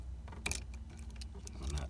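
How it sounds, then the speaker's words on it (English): A car CD player's wiring plug snaps into its socket at the bottom of the unit, giving one short, sharp click up close amid quiet handling noise, with a few softer plastic taps after it. "This plug goes in the bottom here. You'll hear a click."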